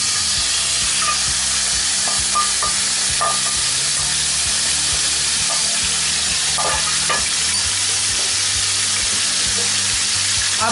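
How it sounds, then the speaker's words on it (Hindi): Marinated chicken fries in oil in a pan, with a steady loud sizzle running throughout and occasional stirring scrapes and clinks over the hiss. "अब जो 1 टेबलस्पून में से जो ऑयल बचा था वो मैं इसमें पैन में ऐड कर रही हूँ और साथ ही मैरिनेटेड"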